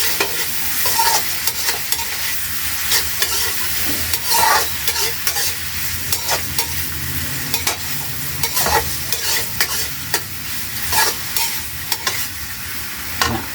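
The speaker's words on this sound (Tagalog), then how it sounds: "Ipipirito natin yung hotdog." Hotdogs sizzle steadily in a hot frying pan, with intermittent crackles, pops and the scrape of stirring throughout.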